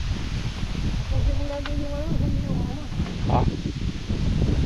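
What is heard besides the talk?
wind blowing on a farm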